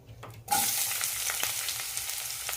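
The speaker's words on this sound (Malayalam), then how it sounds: "ഇതിലേക്ക് സവാള ഇടാം." Chopped onions drop into three tablespoons of hot oil in a pan and burst into a loud, steady sizzle that continues without talk after a quiet start.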